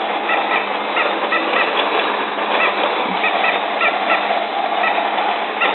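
Repeated electronic quacking chirps from a toy sound over a steady whirring, mechanical background.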